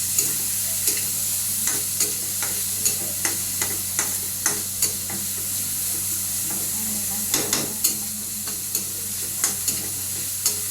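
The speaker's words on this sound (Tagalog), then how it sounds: "gisa lang na to, gisa" Onions and spices sautéing in a pan for a Bisaya shrimp dish, a steady close sizzle broken by repeated scraping stirs of a utensil against the pan, with no talking.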